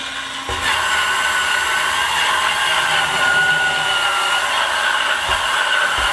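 A Lryifine electric spin scrubber fitted with a different attachment for rounded corners runs steadily and close, a continuous whirring buzz that starts abruptly and holds even throughout, with no talking.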